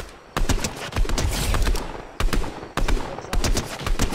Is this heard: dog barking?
no